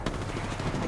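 A brief, muffled spell of rapid gunfire in Apex Legends, a dense rumble of shots at moderate level lasting under a second.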